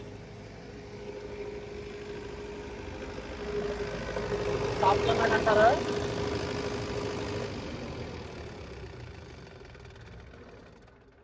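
An Ashok Leyland generator engine that is failing to stop keeps running with a faint, steady idling hum, while a person speaks over it.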